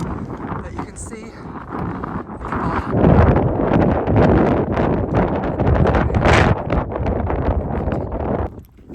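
Strong wind roars steadily across the microphone on a Mount Washington trail, loud and continuous with gusts, and a voice can be heard faintly under it.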